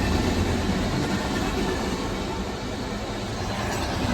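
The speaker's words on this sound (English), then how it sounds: "We got a train passing by." A train rolls past at close range, a loud, steady broadband rumble of rail cars that fills the whole stretch without a break, with no voices over it.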